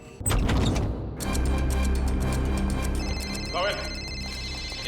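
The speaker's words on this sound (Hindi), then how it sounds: "फोन की घंटी बज रही" A telephone rings in a tense scene from the Indian crime drama CID, its bell tones sounding steadily under loud dramatic music and background noise throughout.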